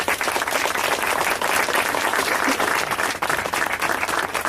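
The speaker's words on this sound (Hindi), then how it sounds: "क्या प्रभु के तालियां देंगे?" A church congregation applauds together, dense steady clapping that holds loud and even throughout without speech.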